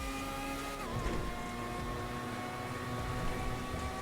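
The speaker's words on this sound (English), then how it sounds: "Just listen to this car." A Formula 1 car in GTA Online holds a steady high engine whine with a continuous droning tone, briefly shifting pitch early on, loud and unbroken throughout.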